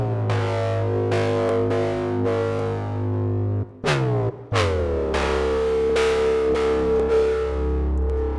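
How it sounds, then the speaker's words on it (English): A synthesized foghorn-like tone made in the Serum synth with distortion and reverb sounds as a series of loud, sustained low blasts with a pitch drop and brief gap midway, each tail washing out in reverb. "Sounding pretty foghornish."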